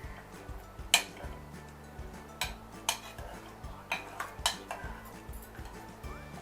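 A metal spoon scrapes and knocks against a pot while stirring a salted turmeric mixture for kandabachali pulusu, giving irregular faint clinks and taps.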